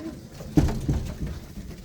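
Pigeons in a loft of paired nesting boxes give a low cooing call, one soft coo in the middle of quiet background, close and faint.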